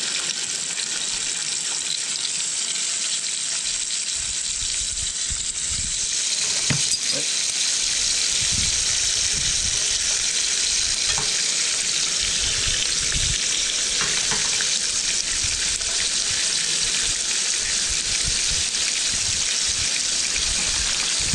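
Bacon frying in a pan at an outdoor camp morning in Norway, a steady loud sizzle and crackle that runs continuously throughout, with occasional bumps and stirring sounds.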